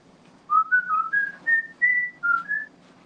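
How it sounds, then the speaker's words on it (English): A human whistle sounds during a night investigation at a quiet estate, a run of about eight short, clear, slightly rising tones in an uneven rhythm, close and alone against near silence. "I just heard a whistle."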